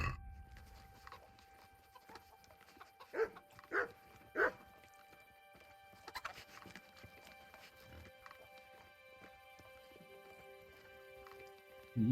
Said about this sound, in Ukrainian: Чого ти гавкаєш оце?